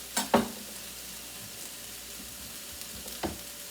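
Onions frying in a pan: a couple of sharp spatula clatters near the start, then a low, quiet sizzle that runs on with another brief scrape near the end.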